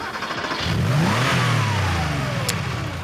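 A car engine revs up sharply, its pitch climbing then holding in a sustained roar before easing off, loud and close with no talk.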